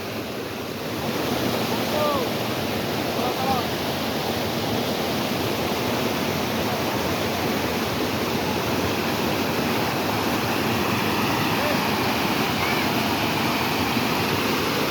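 Floodwater rushes through a breached embankment in the Feni region with a steady, loud, broadband roar, continuous and close, with wind buffeting and no clear talk.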